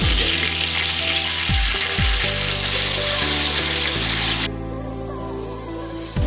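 Marinated vegan seitan steaks of vital wheat gluten sizzle loudly in a pan, a dense continuous fry with a few thumps and scrapes, then the sizzle drops quieter near the end.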